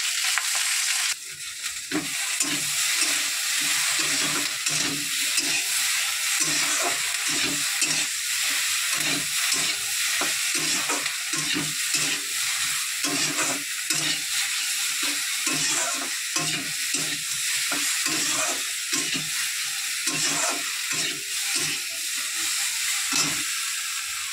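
Okra curry fries in a pan with a loud, dense sizzle, while rhythmic stirring strokes scrape through it again and again, close and steady for the whole stretch.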